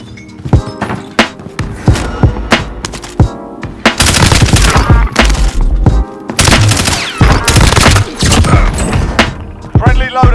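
Rapid bursts of gunfire in the Warzone video game on Rebirth Island, loud, close and repeated in dense volleys with brief gaps between, alongside game voice callouts and other battle sounds.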